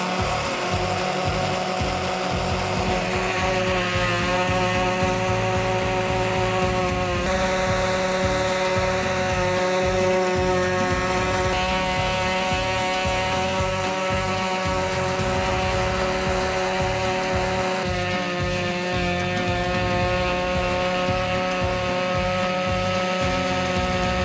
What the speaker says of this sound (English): I'll just buff out these little scratches right here and it'll turn out good